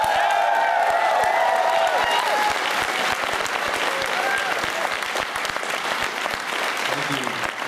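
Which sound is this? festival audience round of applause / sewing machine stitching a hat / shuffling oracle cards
festival audience round of applause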